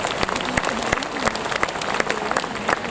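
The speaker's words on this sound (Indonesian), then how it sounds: "Kita beri tepuk tangan meriah." Audience applause fills a university graduation ceremony hall at Universitas Tarumanagara, a steady dense clatter of many hands clapping throughout, with crowd noise blended in.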